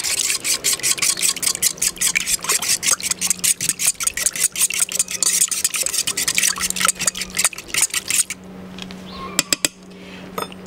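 A utensil rapidly beats honey and almond flavoring into kale muffin batter in a bowl, a fast, close, rhythmic clicking and scraping for about eight seconds, then a few scattered taps.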